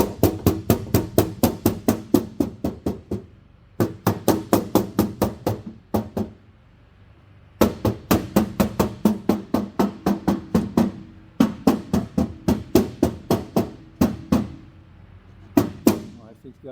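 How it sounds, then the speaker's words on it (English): Repeated light taps on the aluminium leading-edge skin of an aircraft wing, in quick rhythmic bursts of sharp close knocks separated by brief pauses, with no talking. "all he did, he just went around and tapped on the surface"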